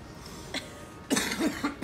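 A person coughs during a French political interview about Michel Barnier: a few short, close coughs in a quick cluster after a faint earlier one, over a quiet room background.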